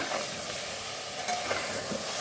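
Mutton curry being stirred in a pan as it fries, with soft scraping strokes over a constant faint sizzle, close and quiet.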